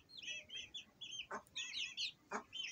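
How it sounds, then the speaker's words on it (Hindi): Repeated short, high clucks and chirpy calls from a nearby hen, coming in quick uneven bursts against a quiet outdoor background. "मुर्गी को मैं बुला रहा हूँ"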